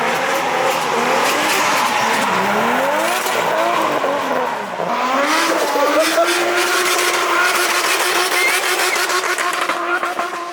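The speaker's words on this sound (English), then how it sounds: "More cars doing donuts." Cars doing donuts at a car show prep gathering, tires squealing in long sweeping pitch glides as engines rev hard, loud and close, continuous for the whole stretch.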